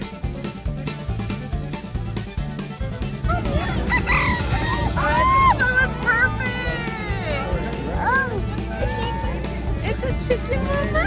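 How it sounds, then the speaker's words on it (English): Chickens on a farm cluck and a rooster crows repeatedly, loud and close, while people talk and a voice is heard throughout. "Look at all those chickens."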